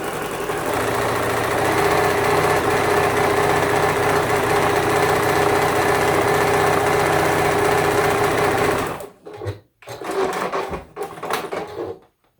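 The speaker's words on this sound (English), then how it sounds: "So I'm going to go ahead and sew those together." A sewing machine runs steadily, stitching two pieces of fabric together with a quarter-inch seam for a Christmas tree quilt background, a continuous loud mechanical whir that stops abruptly near the end, followed by brief handling noises.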